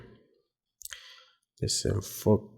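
A computer mouse clicks during software work, a couple of crisp close clicks, with a person speaking in the background.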